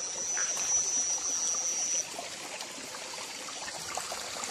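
A long forest stream flows at night with a steady, moderate trickling and babbling of water running close by, unbroken throughout.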